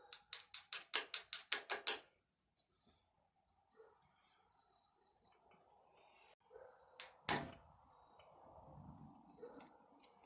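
A ratchet loosening the intake bolts on a Harley Davidson during a base gasket teardown: a fast burst of about nine sharp clicks, then a pause and a couple of isolated clicks and clunks, close and fairly quiet.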